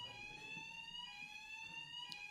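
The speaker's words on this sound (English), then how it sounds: "we're all very much enjoying the fact that the fire alarms in this building are working" A building fire alarm sounds continuously, a steady high electronic tone held at even loudness from start to finish, with no talk over it.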